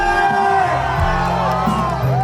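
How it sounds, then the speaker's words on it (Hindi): A large concert crowd at a show during Bali Yatra in Paradip lets out loud whoops, shouts and cheers, close and continuous, with tonal music or voices ringing underneath. "एडमिनिस्ट्रेशन के लिए जोरदार तालियां हो जाए।"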